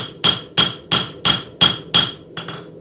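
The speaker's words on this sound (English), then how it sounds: "there's a lot of getting used to what your hammer does and swinging a hammer to be able to modify a profile" A hammer strikes a knife blade during hand forging, six sharp, evenly spaced ringing blows with a quick metallic ping on each, loud and close, followed by a lighter tap.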